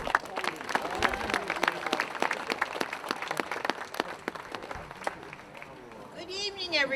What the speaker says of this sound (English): Let's have a nice round of applause for Mary McCann.